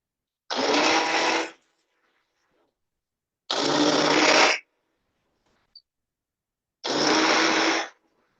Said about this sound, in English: I'm not stirring with the immersion blender. I am just moving to different spots so I can get hold of the potatoes.